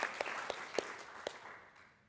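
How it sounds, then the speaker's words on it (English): Brief applause from a conference audience for a panel, a soft scattered patter of clapping with a few sharper claps, fading out over a couple of seconds. "let's have a round of applause for our panel"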